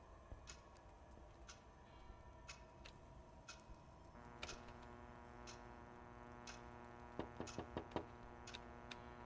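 Sharp knocks or taps in a horror video game, like a window struck behind the player, come as a steady series of light ticks at about one per second, quickening into a cluster of louder raps near the end over a low droning score.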